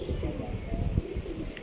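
Soft, low cooing of a tired female pigeon rumbles close by, repeating gently against a murmuring background.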